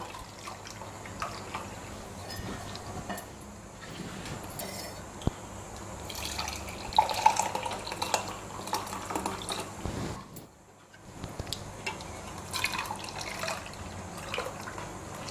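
Boiling water pours and trickles steadily through a tea strainer into a container for most of the stretch, with a brief pause near the end before the flow resumes.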